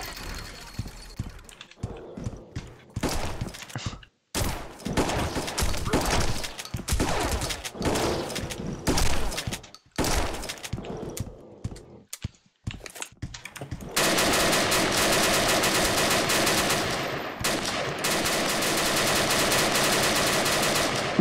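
Rapid shotgun blasts and AK rifle fire in a video game rattle out in dense, loud bursts broken by brief pauses, then run into a long, unbroken stretch of continuous gunfire near the end.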